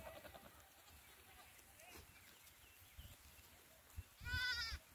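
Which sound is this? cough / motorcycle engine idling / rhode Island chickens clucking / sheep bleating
sheep bleating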